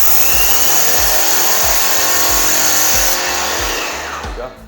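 A paint sprayer hisses steadily as paint is sprayed into the corners of a wall, a loud, close, continuous spray with a rhythmic low pulsing from the pump beneath.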